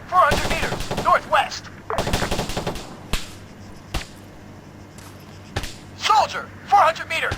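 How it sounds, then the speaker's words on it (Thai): Gunfire in the military shooter game Arma 3 with shots missing their target: bursts of sharp cracks and single reports scattered across the stretch, fairly loud, with someone talking over parts of it. "เสียงแป๊ะๆนี่คือ ยิงไม่โดนนะครับ"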